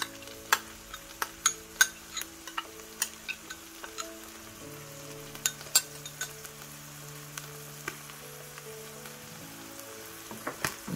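Stir-fried spicy tuna sizzles in a pan as sauce goes in, a soft continuous frying hiss dotted with frequent sharp ticks and pops at an irregular pace, close and fairly quiet with no talk.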